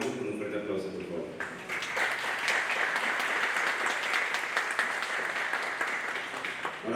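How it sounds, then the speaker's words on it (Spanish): An audience at an orchid and biodiversity conference applauds to welcome a speaker, a steady wash of clapping rising after a brief moment of talk and continuing at moderate volume. "con un fuerte aplauso, por favor"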